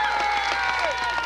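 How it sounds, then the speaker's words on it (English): Crowd applause in the stands at a 1989 high school football game between the Linesville Lions and Maplewood, a steady wash of clapping with some cheering, a tone sweeping through it over a public-address backdrop. "Please join in a round of applause to recognize all these students as well as their respective parents."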